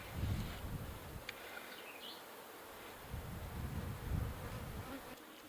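Honeybees buzz steadily around a horizontal beehive split set beside its parent colony outdoors, a continuous swarming drone with individual bees passing close by, rising and falling in loudness, no talking.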